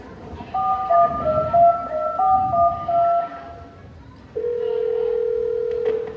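A telephone rings indoors with steady electronic tones, first a warbling two-tone ring and then a single sustained tone, loud and clear over a quiet room during a Filipino stage play.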